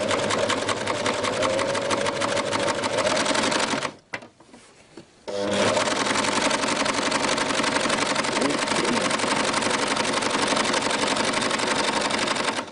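An overlock sewing machine runs steadily on a test seam, a fast, even mechanical whir close by that stops briefly for about a second before starting again, with a voice talking over it.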